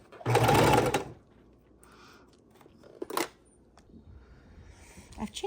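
A sewing machine stitches through a paper junk journal cover in one short, loud, whirring burst near the start, followed by quiet handling clicks and a faint rustle.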